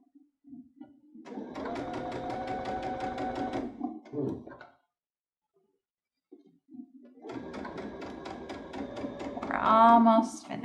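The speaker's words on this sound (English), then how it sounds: "We're almost finished getting this strip sewn." A home sewing machine stitches a piping strip with a standard presser foot, running in two steady whirring bursts with a short pause between them. The second run ends with rising whines, and someone speaks softly nearby.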